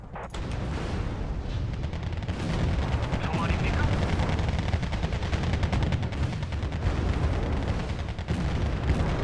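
Sustained, dense gunfire and cannon shots from tanks firing on infantry in the real-time strategy game Wargame: Red Dragon. The battle noise is loud and continuous for the whole stretch, with no voice over it.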